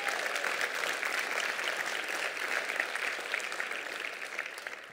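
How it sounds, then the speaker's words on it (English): Keynote audience at a motivational summit claps together in a brisk, even burst of applause, full and fairly close, tapering off toward the end. "You can clap for that"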